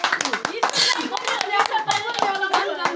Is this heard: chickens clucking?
no